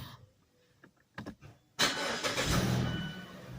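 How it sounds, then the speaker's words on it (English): A car engine started by push button cranks with a few short clicks, then catches and roars to life loudly before settling into a steady idle, close by. "Just step on the brake, push the button, and start the car"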